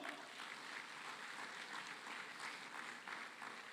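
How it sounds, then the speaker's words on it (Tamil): Audience applause at a Tamil Thirumurai religious conference in Malaysia, a steady mid-distance patter of many hands clapping together, sustained without voices. "2 நாள் மாநாட்டை உங்கள் ஆதரவோடு கைத்தட்டலோடு தொடங்குவோம்"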